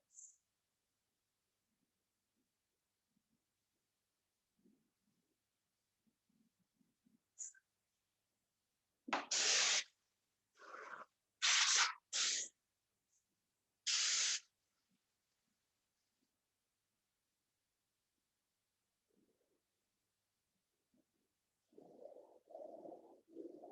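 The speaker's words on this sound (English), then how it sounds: "Getting the second coat on here if we can to get it built up a little bit better." A spray gun lays a second colour coat on a leather car seat being changed from black to cream, giving five short, loud hissing bursts in a quiet room, with a faint voice near the end.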